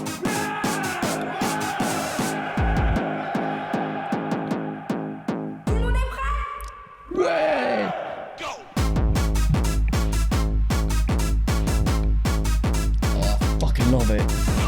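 A hard techno track with all its elements playing together: pounding kicks in a steady rapid pulse under bright synth stabs and noisy textures, a brief breakdown of swirling sounds midway, then the full loud beat slams back in.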